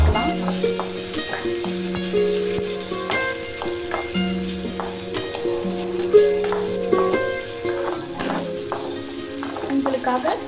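Garlic sautés in a pan, with a bright steady sizzle close up and scraping stirring strokes and light utensil taps, while faint tonal music hums underneath.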